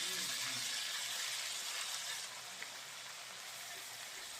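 Pumpkin pieces dropped into hot oil with red-fried onion and garlic for mishti kumro ghonto give a steady, close hiss of sizzling that eases slightly partway through, with no talking.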